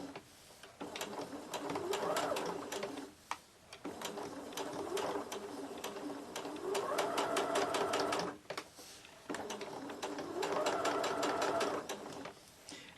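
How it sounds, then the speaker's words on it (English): A sewing machine stitches fabric Christmas ornaments cut from cookie-cutter patterns, running in three rapid, even bursts of needle clatter with short pauses between them, close and clear, with no voices. "Sure helps to have that needle stop down so that you can get around the"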